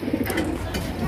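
A racing pigeon coos in short soft bursts, close by and fairly loud against a steady low background hum, with no speech over it.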